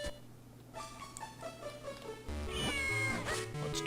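Cats meow in the video game Zelda: Minish Cap, short rising and falling electronic meows over steady game music that grows louder midway.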